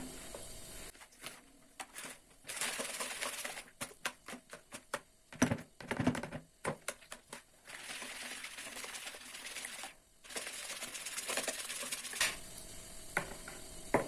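Eggs with salt and sugar whisked over oil for pastry dough, quick irregular rattling and tapping of the whisk against the bowl in bursts separated by brief pauses, close and fairly loud.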